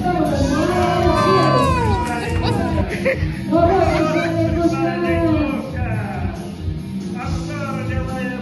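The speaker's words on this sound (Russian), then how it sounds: "Аплодисменты." An audience at a comedic show cheers and shouts, with lively mixed voices and whoops rising and falling in a busy, loud crowd roar throughout.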